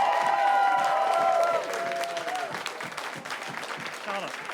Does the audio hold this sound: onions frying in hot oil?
no